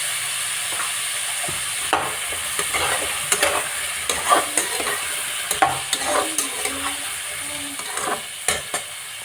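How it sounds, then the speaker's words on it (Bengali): Kohlrabi and potato pieces fry with salt and turmeric, a soft steady sizzle punctuated by frequent sharp clinks and scrapes of a spatula stirring the pan, close and with no talk. "এটাকে আমি নুন হলুদ দিয়ে ভালো করে ভেজে নেব"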